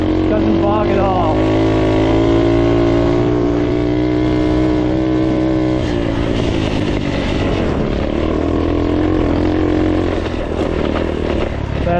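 A Honda CT70 motorcycle engine pulls uphill in first then second gear without bogging, a loud, close, continuous buzzing drone whose pitch shifts midway, with a voice talking over it.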